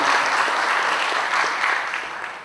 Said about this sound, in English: So let us clap for yourself being a part of VIP